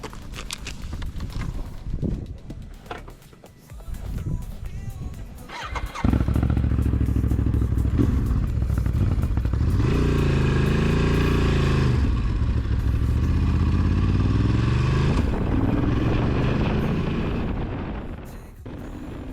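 A motorcycle exhaust roars loudly and steadily in open desert after a few seconds of quieter rumbling, holding strong before easing off near the end.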